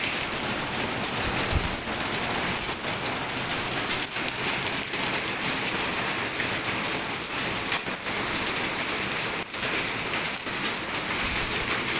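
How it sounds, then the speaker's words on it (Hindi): Hail and rain pelt a rooftop in Rawalpindi, a steady dense hiss of falling water with scattered sharper impacts throughout, loud and continuous with no voices. "ओले पड़ रहे हैं, बारिश हो रही है।"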